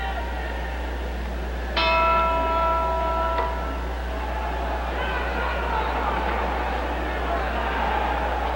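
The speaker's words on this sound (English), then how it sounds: "You're looking into the corner of Bob Satterfield as he waits for the bell." A single bell rings to start round two of a heavyweight boxing match, clear and ringing for about a second and a half, then fading into a crowd murmur with a low hum underneath.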